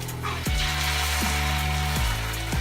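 A salmon fillet sizzles loudly as it is laid in a hot oiled pan, a close steady hiss broken by a few sharp knocks and shifts against the pan; no one talks.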